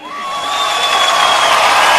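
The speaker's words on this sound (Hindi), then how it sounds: "दादा के लिए जोरदार तालियां।" A studio audience cheers and whoops for a comedy show's Dada, a loud crowd roar swelling over two seconds with high shouts riding on top.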